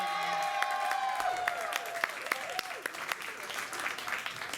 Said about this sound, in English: how about a round of applause for all our volunteers and everybody